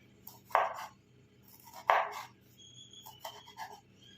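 A knife slices lengthwise through a lemon on a board: two firm, crisp cuts close by, followed by a few softer scraping and trimming sounds, with no voices.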